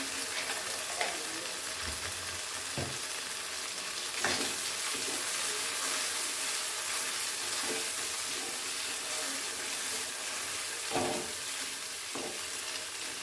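Frozen green peas fry in a pan while being stirred, a continuous close sizzle broken by periodic scraping and clinks of the spoon against the metal, with no talking.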